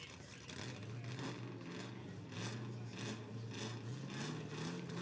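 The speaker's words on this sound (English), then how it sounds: "Revving them up on the start." Formula Drift cars rev their engines at the start line of a Utah competition round, a steady, distant engine drone with pulsing rises and falls over broad crowd and ambient noise.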